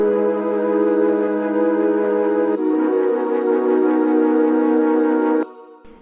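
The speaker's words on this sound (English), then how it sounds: "I'm getting this from Omnisphere. So all the choirs and all the wobbly chords," Layered Omnisphere choir pads blended with wobbly sine synth chords, for a trap beat, sustaining two full chords at steady volume before suddenly dropping to a faint, thin tail.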